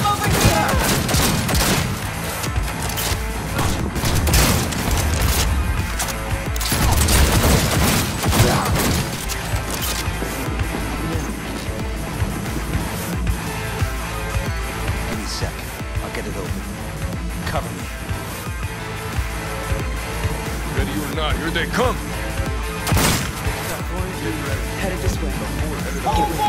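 Gunfire in the video game Cyberpunk 2077, with dense bursts of automatic fire and sharp shots in rapid volleys that keep going throughout, loud and close, while voices shout over the fighting.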